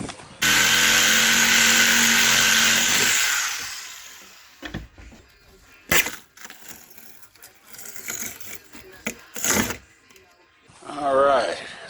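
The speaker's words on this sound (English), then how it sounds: "try to get in there and cut the screws with the Sawzall" A Sawzall reciprocating saw cutting screws off a houseboat collar, loud and steady for about three seconds up close, then stopping, followed by scattered knocks, clanks and shorter bursts of work noise.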